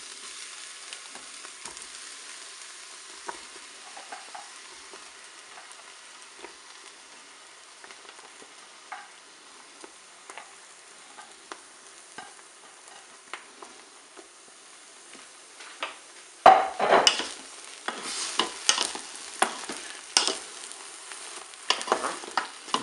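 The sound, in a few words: aubergine slices frying in a Cookeo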